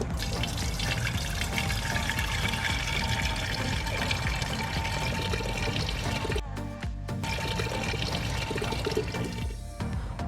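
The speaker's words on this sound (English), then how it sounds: "You're going to boil half a gallon of water in the pot for 5 to 7 minutes and drain the water and rinse thoroughly." Water running and splashing steadily into a camping pressure cooker pot outdoors at a campfire, continuous and fairly loud, with a brief pause partway through before the flow resumes.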